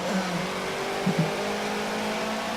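A legendary race car in Forza Motorsport 7 holds a steady, loud engine roar with a brief surge partway through, heard alone without talk.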